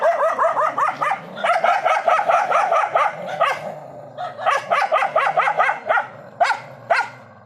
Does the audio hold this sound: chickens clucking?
no